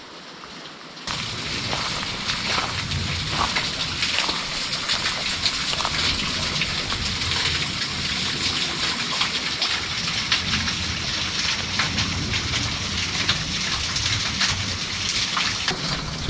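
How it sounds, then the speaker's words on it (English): Steady, broadband rush of a waterfall pouring down desert cliffs starts after a second and continues evenly, a constant hiss without pause. "Oh, another waterfall up there."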